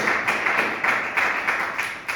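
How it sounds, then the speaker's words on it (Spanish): Rhythmic clapping from a church congregation, steady beats repeating about every quarter second, fairly loud and without speech over it. "démosle un aplauso a las 8 de la tarde"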